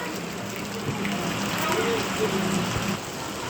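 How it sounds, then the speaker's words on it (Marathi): Heavy rain falls in a steady, dense hiss that fills the whole stretch, with a voice faintly present beneath the downpour. "जोरदारी पाऊस आहे"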